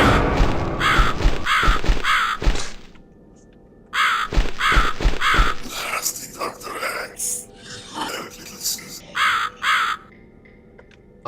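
In The Cat Lady video game, a crow gives repeated loud, harsh caws in rhythmic bursts separated by short pauses, with throaty grunting calls mixed in toward the end.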